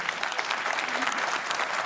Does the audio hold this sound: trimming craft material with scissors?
no